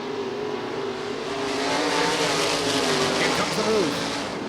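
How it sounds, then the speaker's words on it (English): Race cars roar around a dirt track during heat races, a steady broad engine drone that swells and fades as the field circles, with a brief tire squeal or revving rise near the end and an announcer talking over it. "Cars roaring around."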